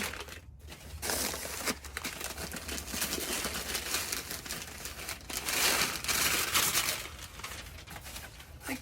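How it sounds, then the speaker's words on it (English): Packaging for a new Ashford e-spinner is torn open and crumpled close by, giving a steady run of loud crinkling and rustling with no talk over it. "Like Christmas, all these things to unwrap."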